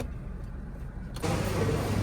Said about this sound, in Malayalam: കൂട്ടുകാരെ ലോറി പോകുന്നുണ്ടോ കൂട്ടുകാരെ